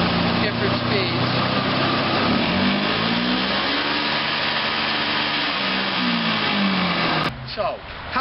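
A 1,000-pound truck-mount carpet cleaning machine with a Toyota engine runs loud and steady, its pitch rising and falling through different speeds, then drops off near the end.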